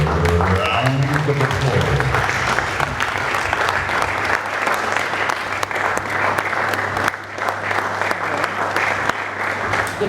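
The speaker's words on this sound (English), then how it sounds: "Ladies and gentlemen, let's hear a round of applause." Sustained applause from a conference audience at an awards summit, dense and steady clapping filling the room for about ten seconds with a slight dip near the end.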